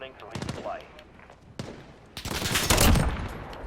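Dragunov rifle gunfire in the video game Modern Warfare: several sharp, loud shots crack in quick succession, followed by a dense burst of overlapping gunfire and impacts. A voice can be heard faintly between the shots.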